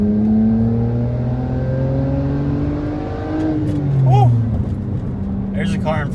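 A 2007 BMW 328i pulls up from second gear onto a freeway, its engine note rising steadily as it accelerates. The sound is heard from inside the cabin, with a voice briefly talking over it.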